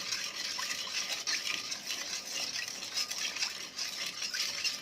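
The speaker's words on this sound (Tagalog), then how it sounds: "Dahan-dahan lang ating halo para hindi mangalay sa braso." Sugar melting in a pan for maja dessert, stirred slowly with a utensil, giving soft continuous scraping and light sizzling hiss with faint clinks, steady and close with no talk.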